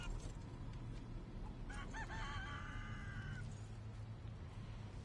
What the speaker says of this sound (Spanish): Ese era el gallo.